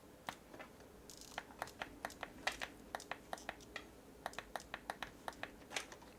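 Keys pressed on a computer keyboard while controlling a Raspberry Pi robot dog, with sharp, close, fairly quiet clicks tapped in an irregular series at a brisk pace.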